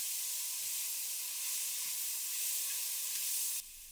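Onions, carrots and peppers sear in olive oil over high heat, giving a steady, bright hiss and sizzle that runs on alone, with faint stirring bumps.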